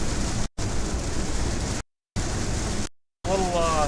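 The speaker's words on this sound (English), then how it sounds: "And it's raining pretty good, I'd say." Steady heavy rain drums on a truck being driven through a storm, a loud continuous wash of noise broken by a few brief silent gaps.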